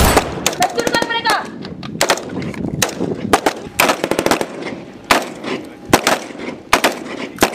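Battle scene from a historical war film set in Indonesia's independence struggle: rapid bursts of gunfire and machine-gun fire crack loudly and repeatedly, with heavier booming shots mixed in and no talk.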